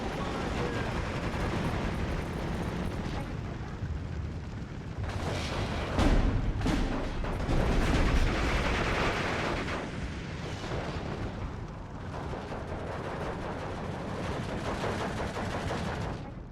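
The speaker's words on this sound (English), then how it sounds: "Beauty of these 50mm mortars." Small 50mm mortars in the WW2 strategy game Steel Division 2 firing repeatedly, a dense, continuous barrage of booming shots and bursts with heavier blasts in the middle, with no talk over it.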